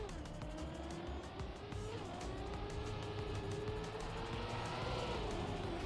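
A car in the Trackmania racing video game drives on a steady engine drone, its pitch rising and falling with gear changes, with some tire noise over the dirt and ice track.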